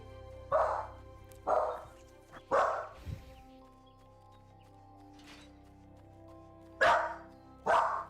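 A dog barks in a video game, with six short, sharp barks spaced unevenly over several seconds and quiet background in between.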